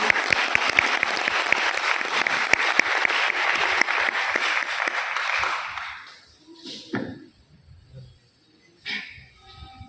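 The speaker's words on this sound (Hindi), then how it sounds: "तालियों के साथ स्वागत कीजिए" An audience in a college seminar hall claps to welcome a speaker, dense close applause for about six seconds that then stops abruptly, leaving quiet room tone with a few faint knocks and murmurs.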